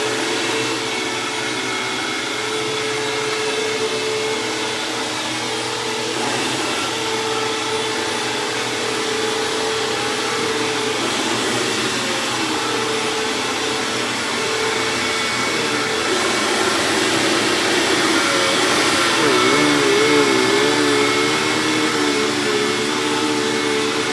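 Hoover WindTunnel Plus upright vacuum cleaner sucking up shredded paper, a steady loud whining roar throughout with slight shifts in pitch as it moves over the debris.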